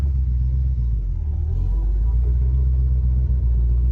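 Porsche 914 fitted with a V8 engine idles and rumbles steadily up close while gears are changed, a deep continuous engine drone with a brief shift of tone partway through.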